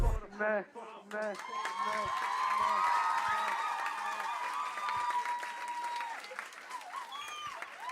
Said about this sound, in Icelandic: gefa hann gott klapp